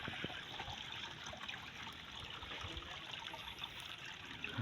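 Water siphoned out of a dirty refrigerator tub used as a fish tank trickles and splashes steadily, a close, continuous dribbling flow with no talk.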